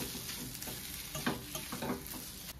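Boiled potatoes being mixed with spices in a hot pan make soft scraping and stirring scuffs over a faint background sizzle, quiet and close, with a few slightly louder knocks of the spoon and no voices.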